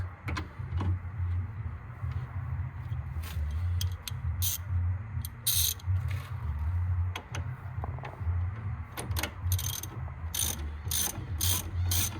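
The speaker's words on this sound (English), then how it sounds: "use a size 17 hex socket" A ratchet with a 17 mm hex socket tightens a nut on a Ford Focus Mk2 1.6 TDCi during brake and suspension work, clicking close up in rapid bursts over a low steady hum.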